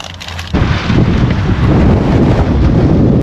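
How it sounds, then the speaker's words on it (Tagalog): Strong wind buffets the microphone in loud, roaring gusts, starting suddenly after a quieter moment and blowing continuously. "Ngayon pa lumakas yung hangin."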